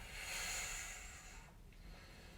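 A single breathy exhale during a Pilates core exercise, a close airy hiss lasting about a second and a half before trailing off into quiet.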